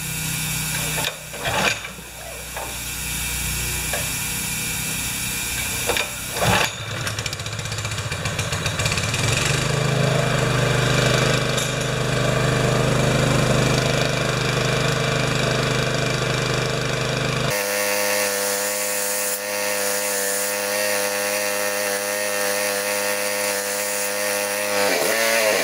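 A Honda engine-driven wheelbarrow air compressor runs loud and close, its engine roughening and settling into a steady drone, then shifting to a smoother, buzzier running note partway through, with no talking.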